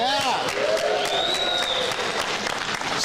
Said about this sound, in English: Sound of applause.